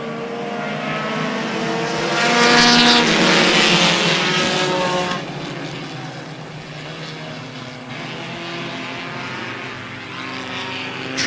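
Race cars run a six-lap second qualifier at Airborne Speedway in Plattsburgh, New York. A loud pack of engines roars past close by, swells for a few seconds, then fades to a steadier, more distant drone.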